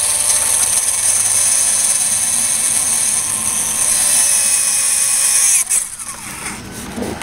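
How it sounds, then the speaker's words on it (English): A power drill whirs continuously as it drives screws into a Craftsman lawn mower's front cross member, a steady high-pitched mechanical whine that changes and breaks off near the end. "Drill a couple of screws."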